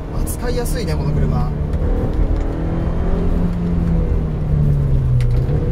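A limited-edition Audi TT 1.8T turbo being driven, its engine giving a steady, fairly loud hum with slight revving while people talk inside the cabin.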